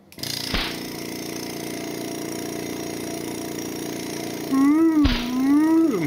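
A TCP Global TC20 air compressor runs with a steady, loud mechanical drone, with brief whistling hisses and a rising whine near the end, heard alone up close.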